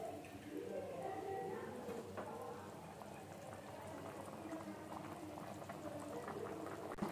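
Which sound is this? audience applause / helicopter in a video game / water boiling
water boiling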